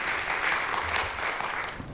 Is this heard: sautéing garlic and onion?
no